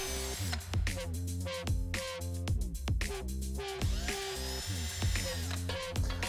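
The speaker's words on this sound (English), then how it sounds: "if the hole in the part is too small, simply drill it out." Power drill bores out a rivet hole in an aircraft elevator part, heard as several short, close whirring bursts with brief stops between them.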